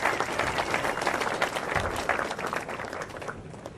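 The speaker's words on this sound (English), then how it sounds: "Big round of applause for John Barilaro," A crowd applauds John Barilaro at a pro surfing gathering, a dense spread of clapping heard from some distance, moderately quiet and tapering off slightly toward the end.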